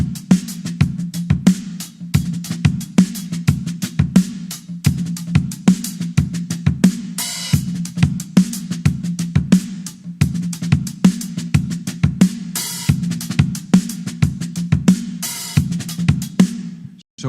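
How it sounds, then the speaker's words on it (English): A groove played on a drum kit, with a steady, busy pattern of sharp hits and ghost notes over a continuous pulse, loud and close, with no talking. "The last groove, groove number 5, sounds like this."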